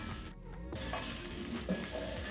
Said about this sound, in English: So I'm going to stir for about 1 to 2 minutes.